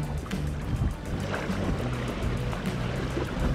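Choppy water splashing and sloshing as a handmade winged fishing lure is shaken on the waves, a steady rapid series of wet splashes, fairly close and heard alone.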